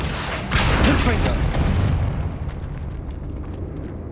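A Confringo blasting curse explodes in Hogwarts Legacy inside a decayed catacomb, one loud booming burst that rumbles and fades over a few seconds.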